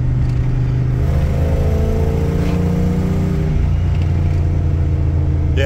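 Ford 460 EFI V8 in a crew cab short bed truck with bigger injectors and headers, a loud steady engine drone building gradually under acceleration, close up and continuous.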